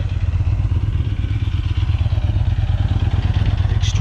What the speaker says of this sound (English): That's the big Victory Vision from the now defunct Victory Company owned by Polaris.